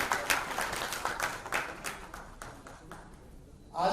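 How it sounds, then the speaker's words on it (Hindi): An audience at a Bollywood get-together party applauds for Rakhi, a brief burst of clapping that thins out and fades within a few seconds as a voice begins at the very end. "राखी जी को जोरदार तालियां।"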